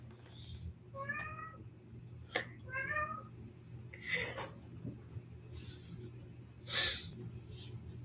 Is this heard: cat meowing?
yes